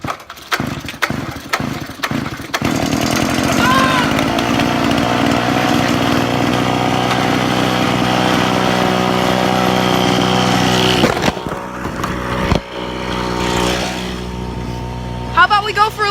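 A small minibike engine is pulled and sputters to life, then runs at a steady, buzzing idle up close before faltering and revving again; a person speaks over it.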